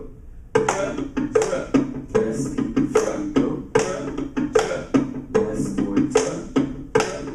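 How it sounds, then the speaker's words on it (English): A group of people claps a rhythm in sharp, close bursts, short patterns of hand claps separated by brief pauses, with a voice briefly calling out between the rounds. "Now I'm going to clap the blend. Rhythm."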